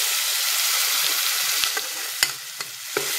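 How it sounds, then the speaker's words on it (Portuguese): Jurubeba sautéing in a pan with garlic and onion gives a steady, loud sizzle, with a few sharp scrapes of stirring toward the end and no voices. "eu vou estar refogando aqui a nossa jurubeba"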